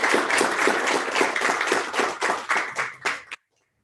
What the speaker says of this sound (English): How about a round of applause for those women?